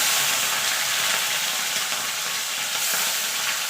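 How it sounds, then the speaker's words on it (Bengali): Small Mourola fish fry in hot oil in a kadai with a loud, continuous sizzle and crackle. The hiss holds steady and close with no voices over it. "এবার মাছগুলো আমি ভেজে নেব, সব একসঙ্গে দেবো না।"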